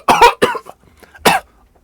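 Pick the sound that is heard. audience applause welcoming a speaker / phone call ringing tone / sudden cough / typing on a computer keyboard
sudden cough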